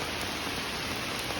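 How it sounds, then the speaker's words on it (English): Heavy rain drums on a tarp over a campsite shelter, a dense, unbroken, close hiss with no talk. "That's how hard it's raining."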